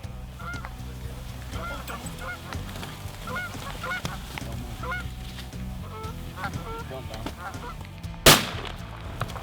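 A large flock of geese honk continuously as they fly in during a late-season goose hunt, many overlapping calls at moderate distance, with one sharp, loud gunshot near the end.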